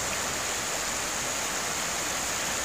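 Water flows into Lake Isabella in California as a steady, dense, close rushing roar, constant and unbroken, like a stream or small waterfall, with no voices.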